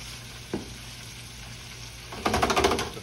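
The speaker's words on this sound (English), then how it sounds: "I'm gonna step off here and let this fry up." Catfish pieces fry in a deep fryer with a low, steady bubbling hiss, then a burst of louder crackling sizzle toward the end, close up with no talking.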